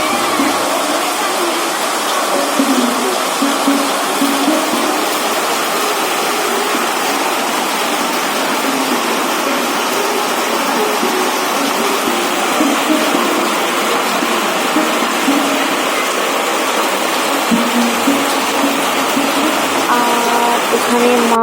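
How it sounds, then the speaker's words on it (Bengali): Heavy monsoon rain pours down in a dense, unbroken roar that stays loud and even throughout, with a voice faintly present in the background at times. "এরকম ধারায় বৃষ্টি একই রকমভাবে আজকে সারাদিন বৃষ্টি হবে"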